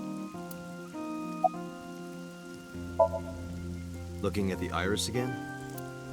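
Soft, steady rain hisses in the background of AI: The Somnium Files, a faint, continuous patter beneath sustained music tones, with a voice speaking partway through.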